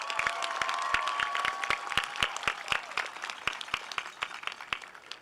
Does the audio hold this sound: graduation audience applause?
yes